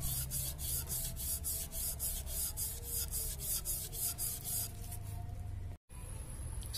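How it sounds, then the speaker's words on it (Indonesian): Rhythmic back-and-forth rubbing of 500-grit sandpaper wrapped with raffia string over an engine crankshaft wetted with petrol, from a Hyundai Atoz 2005 engine overhaul; steady close scraping strokes repeat for several seconds, then stop abruptly. "Setelah kita poles atau kita gosok dengan amplas 500 atau 800"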